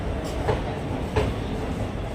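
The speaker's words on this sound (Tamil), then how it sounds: "பிளாட்ஃபார்ம் நம்பர் த்ரீயில் தான் ட்ரெயின் வந்துக்கிட்டு இருக்கு" A Sengottai–Erode express train rumbles close by along a platform in Tamil Nadu, India, a steady, heavy rolling noise with faint clacks of the wheels.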